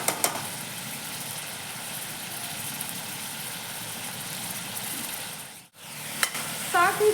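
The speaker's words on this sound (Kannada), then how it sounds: "ಒಂದು 2 ನಿಮಿಷ ಹಿಂಗೆ ಫ್ರೈ ಮಾಡಿಕೊಂಡ್ರೆ ಸಾಕು." Mutton keema masala sizzles steadily in a pan under an even, crackling hiss, with a brief break near the end and a few clinks of the stirring spoon; no one speaks.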